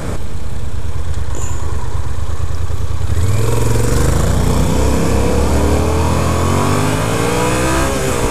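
A 2015 Yamaha FZ-07 motorcycle rides in fourth gear, its engine droning loudly and close, then climbing in pitch as it accelerates hard with strong wind rush throughout.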